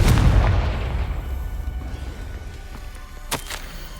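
A Confringo spell blast in Hogwarts Legacy booms loudly at the start, its rumble decaying over a few seconds, followed by a couple of sharp cracks near the end.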